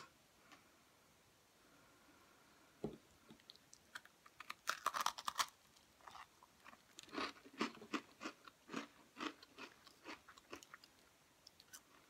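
Golden cream-filled sandwich cookies are bitten and chewed, crunching close and crisp in irregular bursts against a quiet background, with no talking.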